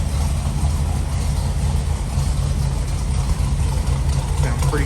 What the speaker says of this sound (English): Notice a little bit of lope there at idle.